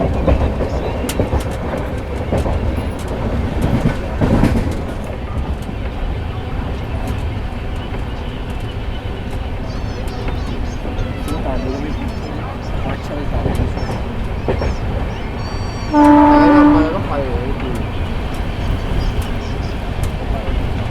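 An LHB-coach Himachal Express train rolling along after leaving Narela, heard from inside as a loud, steady rumble with rail clatter, and a brief horn blast near the end.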